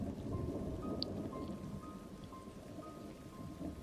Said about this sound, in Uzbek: Hamma yoq jimjit, faqat tashqarida yomg'ir ovozi eshitilardi.